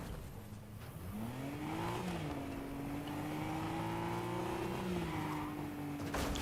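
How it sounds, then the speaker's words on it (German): Car driving in the video game Fortnite, a steady engine drone with a rising then sustained tone through the whole stretch, moderately loud and alone with no talk. "Also gehen wir jetzt da mit diesem Auto."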